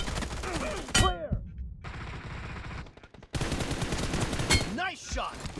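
Team deathmatch in BGMI, with rapid automatic gunfire bursts and sharp single shots, close and loud, then a short lull before the firing resumes.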